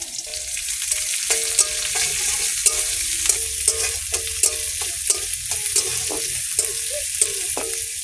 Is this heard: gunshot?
no